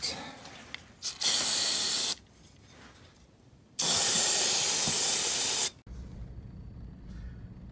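Two long bursts of aerosol spray hiss loudly into the engine of a Ford Econoline van, each lasting a couple of seconds, separated by quieter moments of rustling and handling noise.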